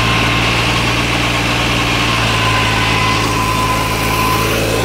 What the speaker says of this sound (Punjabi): ਦੇਖੋ ਵੀ ਟਰੈਕਟਰ ਚੱਲੀ ਜਾਂਦਾ 3600-2 ਅਤੇ ਨੇੜੇ ਆ ਜਾਂਦਾ ਟਰੈਕਟਰ